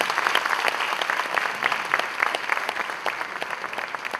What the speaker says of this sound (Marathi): जोरदार टाळ्या असू देत.